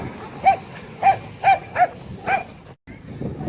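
Dogs bark in a short run of five sharp, fairly close barks at uneven intervals, then a brief pause followed by softer rustling background noise.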